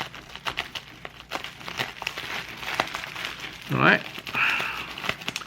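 A bubble-wrapped package holding a vintage Stocker & Yale 184A watch is cut open, with soft crinkling and a louder burst of plastic crackle near the end, under intermittent nearby talk.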